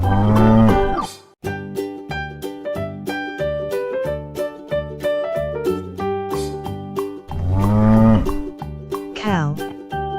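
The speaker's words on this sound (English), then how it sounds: "Cow." A cow moos in repeated long, loud lowing calls with a steady rhythmic tonal backing between them, heard close and clear with no speech.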